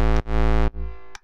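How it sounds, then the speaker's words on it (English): Distorted synth in a deep/future house production, short sustained buzzy tones with a gritty harmonic edge, played in separate stabs with brief gaps. "that's what it sounds like with just the distortion on it"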